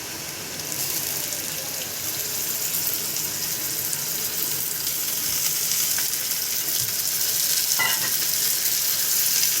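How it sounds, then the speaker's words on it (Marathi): Prawns with turmeric fry in hot oil, giving a steady, close sizzling hiss that rises slightly over time, with a brief stirring scrape near the end. "कोलंबी जी आहे ना ती छान अशी तेलात भाजून घ्यायची."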